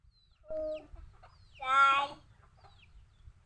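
A couple of hens cluck nearby, a short call followed by a louder drawn-out squawking cluck, with quiet pauses in between.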